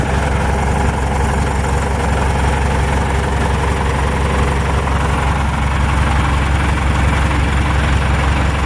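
A Deutz 6207 tractor with an F4L912 diesel engine, which has hydraulic problems, runs at a steady idle. It makes a loud, constant low rumble close by, with no voices.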